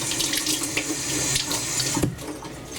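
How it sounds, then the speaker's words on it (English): Hands washed under a running kitchen tap while making sushi, a steady close splashing stream of water with small shifts as the hands move beneath it. "Wash your hand."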